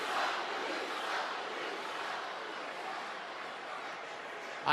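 A packed wrestling arena crowd at a live WWE Raw event roars in a steady, loud wash of cheering that holds without a break and swells briefly at the very end.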